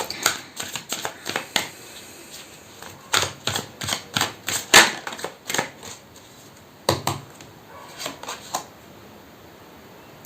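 Tarot cards being shuffled and drawn: bursts of quick riffling flutters and crisp card snaps in uneven clusters, close and fairly loud, with short quiet gaps between handfuls and no talking.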